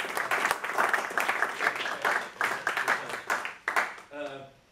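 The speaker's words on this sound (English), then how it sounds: "Give him an Icthus round of applause." Audience applause at a Christian youth gathering, a few seconds of clapping with rhythmic bursts that tapers off as a voice begins speaking.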